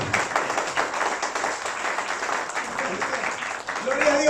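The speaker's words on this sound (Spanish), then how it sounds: "Démosle un aplauso al Rey de Reyes" Church congregation clapping in applause during a Spanish-language sermon, a steady wash of claps throughout with voices mixed underneath.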